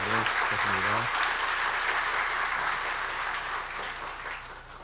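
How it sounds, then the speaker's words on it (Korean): A church congregation applauds the choir and orchestra steadily, a dense wash of clapping that slowly fades, with a brief voice heard at the very start. "우리 성지 오케스트라에게 다시 한번 감사의 박수를 전하겠습니다."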